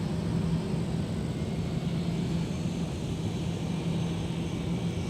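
An American Airlines Airbus A321 arriving from Dallas at Minneapolis–St. Paul airport gives a steady, broad jet roar that holds evenly throughout, heard from a distance outdoors with no voices.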